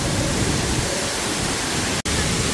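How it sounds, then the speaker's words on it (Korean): A steady, dense roar of the 15 to 20 metre Hongryongsa waterfall in Yangsan, Korea fills the scene, broad and constant, broken only by a split-second dropout. "이곳이 홍룡사 폭포입니다."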